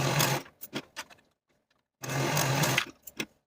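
A sewing machine stitches a dress's shoulder seams in two loud bursts of running, each trailing off into a few short stop-start stitches, with a quiet gap between them.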